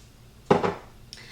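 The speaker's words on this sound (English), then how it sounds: "we're going to start mashing up the bananas here" Bananas mashed in a bowl for banana bread give one short, close clatter of utensil against the bowl, with a faint tap just after.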